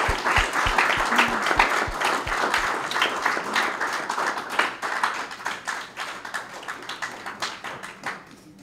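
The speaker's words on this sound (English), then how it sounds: "if we can give them a round of applause." A crowd applauding steadily, dense clapping that holds for several seconds before gradually thinning out, with a few low thumps early on.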